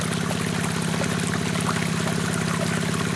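Water rushes steadily across Gold Hog Razorback sluice matting in a constant, loud, dense flow that holds unchanged throughout.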